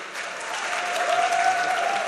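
A crowd celebrating Angela Merkel's election win applauds and cheers in a loud, continuous wash of clapping, with a sustained whistle-like tone rising through the middle, for about two seconds.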